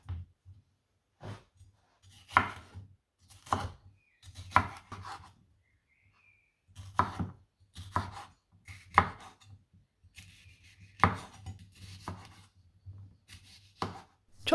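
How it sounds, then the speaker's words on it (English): A knife chops red pepper on a kitchen board, close crisp knocks arriving in small irregular bursts with quiet gaps between them and no voices. "chop the red pepper into similar size pieces. I love some quiet chopping time in the kitchen"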